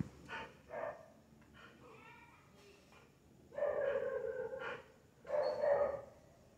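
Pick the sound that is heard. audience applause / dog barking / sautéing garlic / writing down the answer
dog barking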